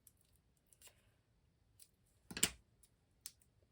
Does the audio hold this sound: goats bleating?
no